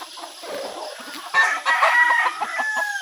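Backyard chickens, including five-month-old birds, cluck nearby and a rooster crows loudly partway through. The crow sits over a soft, steady murmur of the flock.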